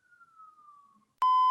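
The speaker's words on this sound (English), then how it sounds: "Can you hear the sirens going on?" A siren drifts by outside, a faint single descending wail fading away, then a loud steady electronic tone cuts in abruptly near the end.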